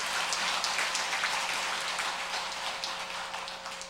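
An audience claps at a Buddhist temple ceremony, a lantern-offering and pre-death Yesujae ritual. The dense, steady applause fills the room and eases off slightly toward the end.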